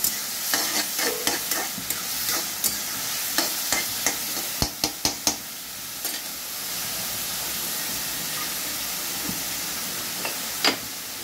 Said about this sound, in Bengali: হালকা করে ভাজা করবো।